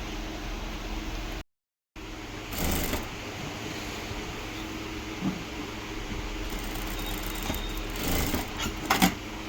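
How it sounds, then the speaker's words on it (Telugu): A sewing machine stitches a patch onto a torn saree with a steady, low mechanical whir that runs almost continuously, fairly faint, with a brief gap and a few small clicks. "ఈ ముక్క తీసుకొని ఫస్ట్ మనం మిషన్తో నార్మల్గా మనము మిషన్ ఉంటుంది కదా, మన మిషన్తో స్టిచ్ చేసుకోవాలి."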